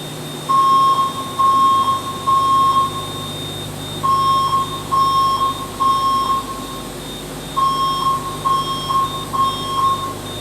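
A fire alarm control panel in an aircraft hangar beeps during a system reset, in repeated bursts of rapid high tones, pausing between groups, loud and close with a faint hum behind it.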